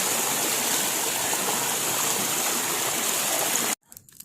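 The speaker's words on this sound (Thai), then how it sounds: "เสียงน้ำตกค่ะทุกคนค่ะ เราก็จะเลาะเละไปตามสายน้ำและลำธาร" A waterfall and stream flow with a steady, loud, broad rush of water that continues evenly, then cuts off abruptly near the end.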